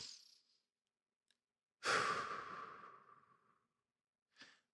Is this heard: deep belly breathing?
yes